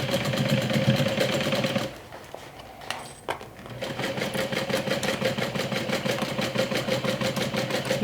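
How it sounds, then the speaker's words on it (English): A sewing machine stitches a curved seam around a water bottle sling with a 3/8-inch seam allowance, running in a steady rapid whir, pausing briefly in the middle, then starting up again and continuing evenly. "we're going to stitch all around it with a 3/8 of an inch seam allowance"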